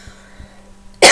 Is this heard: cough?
yes